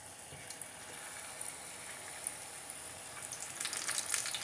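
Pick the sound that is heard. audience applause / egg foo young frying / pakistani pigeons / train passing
egg foo young frying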